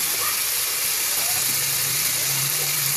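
Pieces of meat fry in a pan with onion, garlic and ginger paste, giving off a steady, loud, even hiss of sizzling oil that runs throughout, with a faint low hum underneath.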